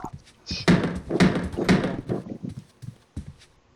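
Three heavy knocks on a door in the horror video game Demonology, evenly spaced and loud, followed by softer thuds, with game ambience around them.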